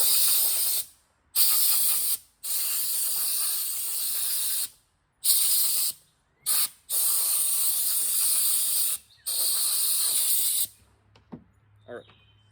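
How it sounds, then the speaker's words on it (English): Compressed air blasts coffee grounds out of a Baratza Encore grinder in a series of loud, sharp hissing bursts of varying length separated by brief silences, ending with a few quieter clicks. "I'm going to use some compressed air to just clean out all the coffee grounds that built up in it"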